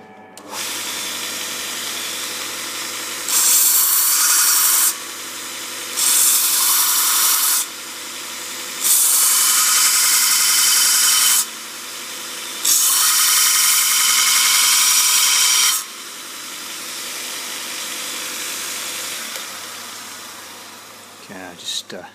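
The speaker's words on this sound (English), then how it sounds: "finishing off on the belt sander because I think I've got more chance of getting it parallel" A belt sander grinds a small metal part in a workshop in four bursts of a few seconds each, with a steady motor hum between the contacts and faint background noise.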